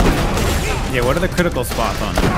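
Gunfire in Borderlands: The Pre-Sequel keeps up a dense, steady rattle of shots throughout, loud and continuous, while a player talks over it.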